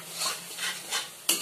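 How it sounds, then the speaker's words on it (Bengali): A spice paste for a coconut dish is sautéed in oil and stirred in a pan, with three rhythmic scraping strokes over a light sizzle and a sharp clink at the end. "আমি ততক্ষণই কষবো যতক্ষণ না মশলা থেকে তেলটা বেরিয়ে আসবে।"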